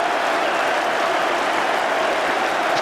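Dense, steady applause from a large cricket crowd celebrating an England wicket during the 2005 Ashes, loud and continuous with a roaring wash of clapping throughout.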